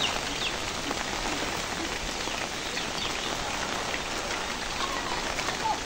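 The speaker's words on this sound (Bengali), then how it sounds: "আজকে যে পরিমাণ বৃষ্টি হচ্ছে" Heavy rain pours outdoors during a cyclone-driven storm, a dense, continuous hiss of drops hitting surfaces that stays loud and unbroken throughout, with no voices.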